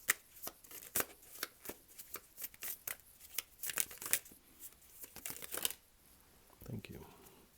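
Tarot cards are shuffled and drawn, a string of crisp, close riffles and flicks in quick bursts, ending with a softer rustle; a voice talks lightly at times.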